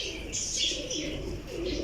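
Young pigeons coo softly in a loft, a few low burbling calls with some higher chirps over a faint background.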